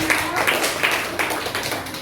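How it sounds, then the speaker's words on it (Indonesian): Students in an Indonesian classroom clap for a group that has just presented, a short round of uneven, fairly close hand claps with a few distinct slaps standing out. "Beri tepuk tangan dulu untuk kelompoknya."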